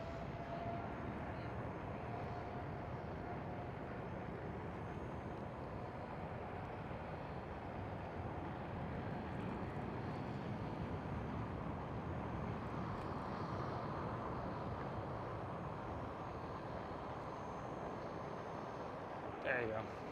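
A KLM Boeing 787 airliner taxis toward the runway at Schiphol Airport in Amsterdam, a broad, steady rumble of jet engines held at a distance for twenty seconds, with a voice talking over it.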